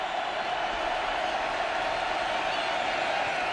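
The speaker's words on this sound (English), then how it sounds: "The crowd gets back into it" A distant football stadium crowd at a college game roars in a steady, dense wash of cheering that holds at an even level throughout.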